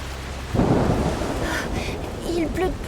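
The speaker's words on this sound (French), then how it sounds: "Il pleut de plus en plus fort." Heavy rain pours steadily in the video game A Plague Tale: Requiem, with a rolling thunderstorm rumble building in loudly and voices murmuring faintly beneath the downpour.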